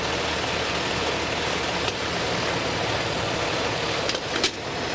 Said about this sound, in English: Yeah, reverse, slowly. You're gonna damage your bumper.